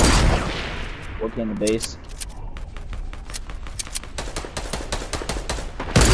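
Rapid bursts of gunfire from a Fortnite-style battle royale match, sharp cracks repeating densely over several seconds, with players talking over the shooting.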